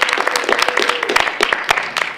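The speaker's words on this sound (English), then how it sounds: "can we just have a round of applause for Struan and Mark and everyone at Hull College" An audience at a drum clinic at Hull College gives dense, lively applause. Loud, close claps mix with some voices in the crowd.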